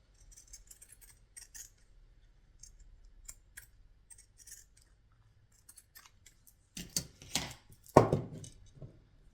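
Scissors snip through thin fabric trimmed for a cardboard travel jewelry box, starting as faint, scattered clicks and building to a few louder, close cuts near the end, with no talking.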